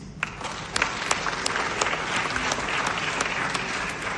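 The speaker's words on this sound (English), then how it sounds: "A round of applause, please." Brisk applause from a dance showcase crowd for the evening's platinum sponsors, close and lively clapping with a few sharp individual claps standing out above the steady patter.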